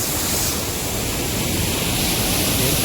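Monsoon-swollen Soormane waterfall at Kalasa, Chikkamagaluru, pouring as a dense, unbroken roar of cascading water heard up close, loud and even throughout with no voices.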